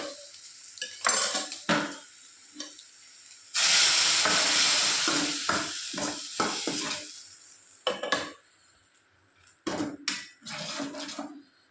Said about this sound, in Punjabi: ਤੜਕਾ ਹੋ ਗਿਆ ਬਰਾਊਨ ਹੁਣ ਇਹ ਦਾਲ